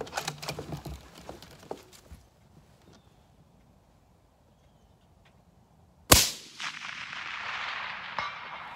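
A single sharp rifle shot from a lightweight Christensen Arms MPR in 6.5 Creedmoor cracks loudly and close outdoors, followed by a long rolling echo, after a quiet stretch with faint talk at the start.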